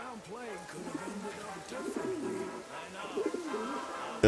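Pigeon in Atomic Heart cooing repeatedly in soft, rolling phrases at a steady moderate level, with faint background sounds between the calls.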